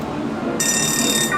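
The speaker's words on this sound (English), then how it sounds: "It's just like a little doorbell." The doorbell at the Blind Tiger in Knott's Berry Farm chimes with a bright, ringing electronic tone, starting partway through and ringing steadily over a murmur of background voices.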